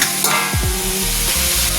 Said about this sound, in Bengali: শুকনো লঙ্কা ফোড়ন দিয়েছি।